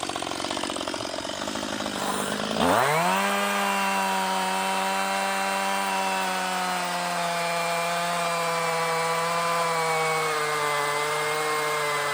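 A chainsaw revs up and cuts steadily through a fallen tree being removed with help from a John Deere machine, a loud sustained whine holding for about ten seconds.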